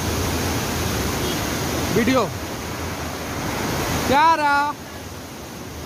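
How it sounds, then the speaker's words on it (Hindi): A waterfall roars as a constant, broad hiss of falling water in the background, while a person speaks briefly over it twice. "देखो झरना"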